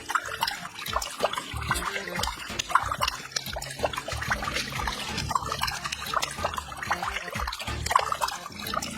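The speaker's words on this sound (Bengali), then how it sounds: "এই তো জলের সাউন্ড আসছে, কলটা মনে হয় বন্ধ করতে গিয়ে ভুলে গেছি।" Water runs from a tap left open into a washbasin, a continuous close splashing trickle with irregular drips and gurgles lasting throughout.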